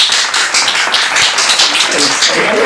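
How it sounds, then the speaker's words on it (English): A small group claps for a podcast guest, a loose, uneven patter of hands that stays fairly close and steady throughout. "round of applause for, what's that, Ellie?"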